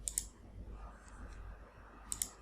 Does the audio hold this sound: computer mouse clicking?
yes